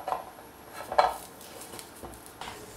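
Chestnuts are stirred and shaken in a metal frying pan, giving a few close metallic clinks and scrapes over a soft rattling hiss.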